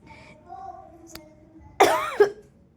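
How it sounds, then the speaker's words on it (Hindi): A single harsh cough bursts out close by, with a second rasping push right after, following quiet background sounds. "खांसी आ गई थी"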